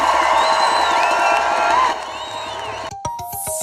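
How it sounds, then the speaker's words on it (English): A crowd at an outdoor march outside the Libyan High Commission cheers and whoops loudly for about two seconds, then the noise drops and sharp rhythmic clicks and tones follow. "giving ourselves a big, massive round of applause"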